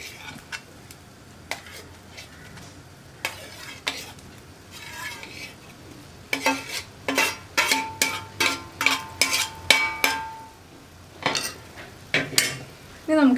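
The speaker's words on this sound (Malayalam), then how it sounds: "നമുക്കിതിലേക്ക് വേവിച്ച് ഉടച്ചു വെച്ചിരിക്കുന്ന ഉരുളക്കിഴങ്ങ് ചേർക്കാം." Mashed boiled potatoes are stirred into a simmering tomato curry in a pot. A spoon scrapes and clinks against the metal in an irregular rhythm that grows busier, with a faint sizzle underneath.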